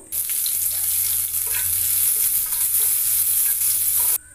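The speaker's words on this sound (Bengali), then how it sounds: "পেঁয়াজ কুচি দিয়েও আবারও একটু ভালো করে নাড়াচাড়া করে নেব।" Chopped onion sizzles loudly in a hot pan, a continuous bright frying hiss with soft scraping strokes from stirring, stopping abruptly near the end.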